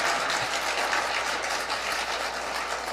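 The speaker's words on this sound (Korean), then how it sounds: "박수 소리가 좀 작네" A church congregation applauds during a Christmas homily, a steady wash of clapping that holds evenly throughout at moderate level with no voices.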